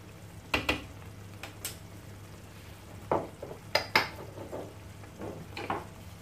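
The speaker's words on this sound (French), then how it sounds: "Je mélange le tout." A spoon stirs ras el hanout and turmeric in a pot for eggplant tajine with minced meat, giving a few scattered, close metallic clinks and scrapes over a quiet kitchen hum, with no talking.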